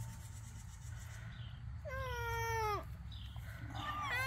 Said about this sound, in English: Silly kitty.